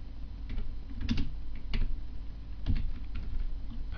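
Fingers typing on a computer keyboard while filling in a registration form, a close, irregular patter of key clicks in short bursts over a low background hum.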